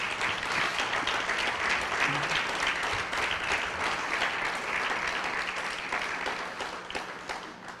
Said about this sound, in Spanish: ¿Alguien puede dar un aplauso al Señor si lo está entendiendo?